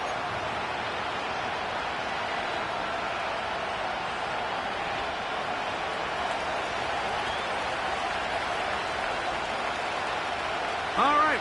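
Stadium crowd noise in an EA Sports NFL football video game at Acrisure Stadium in Pittsburgh: a steady, dense roar of many voices holding level throughout, with a brief louder burst near the end.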